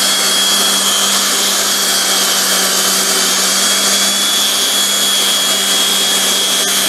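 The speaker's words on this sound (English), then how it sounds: "the best way to do that is with a hand sander" A handheld power sander works steadily on a wooden hammer handle, rounding off its corners. The rough, broadband grinding whine runs loud and continuous throughout with no talk over it.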